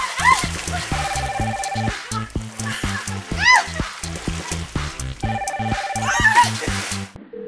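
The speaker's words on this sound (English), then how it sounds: "It's ringing." A phone rings with a melodic electronic ringtone, a bouncy repeating tune with bright chirps that cycles through several times.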